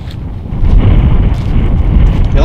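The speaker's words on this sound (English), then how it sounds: "You'll have to excuse the wind a little bit because it's windy" Wind buffets the microphone outdoors in snowy winter conditions, a loud, low rumbling roar that rises after a quiet start and keeps gusting steadily.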